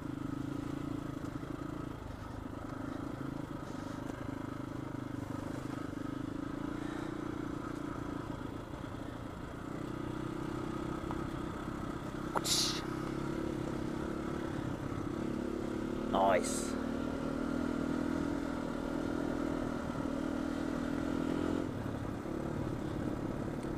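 A Scrambler motorcycle rides a rutty woodland trail in Wales, its engine droning steadily throughout at close range, with a couple of brief clatters from the bike over the ground and no talk.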